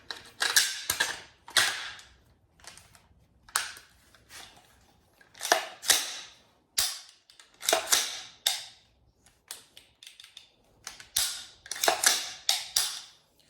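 Sharp metallic clicks and clacks from a rifle's charging handle and bolt carrier being slid and seated during dry-fire practice, in irregular bursts close to the microphone, with no talking.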